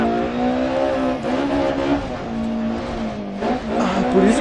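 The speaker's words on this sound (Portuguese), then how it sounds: "por isso que o motor gira tanto, é 8 e 100, porque é aspiradão" A BMW E30 M3 Evo rally car in the Dirt Rally video game revs hard with a high naturally aspirated engine whine, pitch rising and dipping through gear changes, loud and continuous with a brief tire skid.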